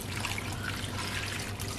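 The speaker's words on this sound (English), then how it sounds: "I am just going to pour it all in this delicious smelling bowl" Water pours from a pitcher into a bowl of fruit and cinnamon sticks, a steady splashing trickle that runs loud and close for the whole stretch without a break.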